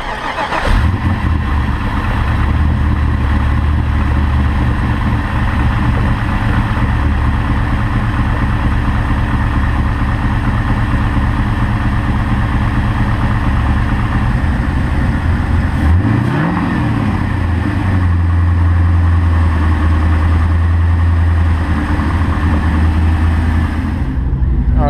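A car engine idles steadily while warming up to operating temperature, a loud close continuous rumble with a brief rise in revs partway through before settling back to idle.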